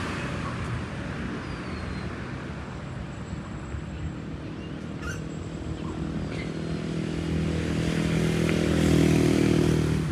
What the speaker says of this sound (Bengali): এই টুকটুক গাড়িগুলা এই ব্যাংককের মধ্যে খুবই বিখ্যাত একটা গাড়ি। এগুলা এত শব্দ করে